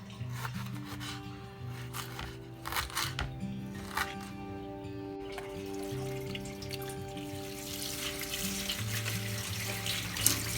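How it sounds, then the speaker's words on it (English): Water is strained from soaked methi (fenugreek) leaves in a home kitchen, giving a soft trickle with rubbing and rustling of the wet leaves over gentle background music. "I am straining the water from the methi leaves and keeping aside till use."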